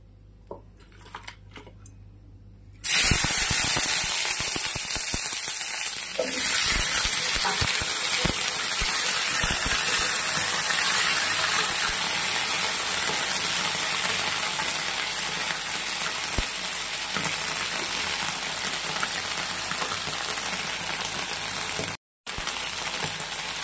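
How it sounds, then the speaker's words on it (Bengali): Capsicum, onion and tomato fry in hot oil for chilli chicken, a loud continuous sizzle that bursts in suddenly after a quiet start, with occasional clicks and stirring knocks as it goes. "তেলটা গরম হওয়ার পর দিয়ে দিয়েছি ক্যাপসিকাম, পেঁয়াজ আর টমেটো।"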